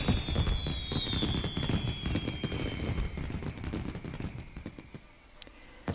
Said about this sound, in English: At midnight, there is a constant noise of fireworks.